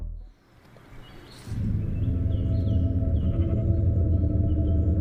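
A sheep bleats in a long, loud, wavering cry that starts after a brief quiet moment and holds steady to the end.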